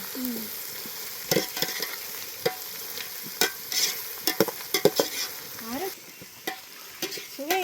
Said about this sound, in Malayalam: നല്ല ബ്രൗൺ കളറായിട്ട് അതുവരെ നമുക്ക് ഇളക്കാം അല്ലേ